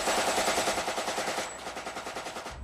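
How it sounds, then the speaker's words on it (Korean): A volley of rifle fire from special forces troops during an armed infiltration incident rattles off in rapid, evenly spaced bursts, loud and close, continuing without pause for nearly three seconds with no talking. "순간 특전사 비호부대원들의 일제 사격이 시작됐습니다."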